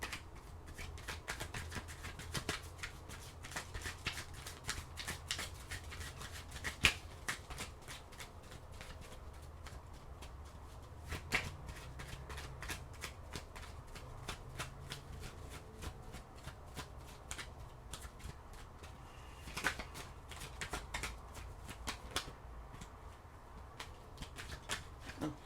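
Oracle cards being shuffled by hand, a steady run of soft papery riffles and flicks that goes on throughout, close and fairly quiet, with no talking.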